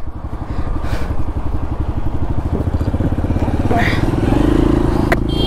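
A Moto ADV adventure motorcycle in Nepal runs with a loud, close, throbbing engine beat that pulses rapidly and steadily, rising slightly toward the end, with faint sounds from the surroundings on top.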